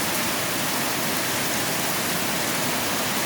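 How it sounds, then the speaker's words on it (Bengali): Heavy rain pours down in a dense, unbroken hiss that stays loud and even throughout, with no voices. "প্রচণ্ড বৃষ্টি হচ্ছে, প্রচণ্ড।"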